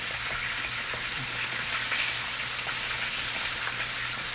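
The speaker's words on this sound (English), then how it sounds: "So now, I'm going to stir all this together." Fried corn sizzles steadily in a skillet while being stirred, giving a constant crackling hiss with faint scraping.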